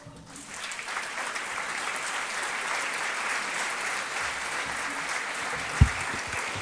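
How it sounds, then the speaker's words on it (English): Audience at a literary evening with an author gives sustained applause, a broad steady roar of many clapping hands with a sharp thump near the end. "let's give them one more giant round of applause."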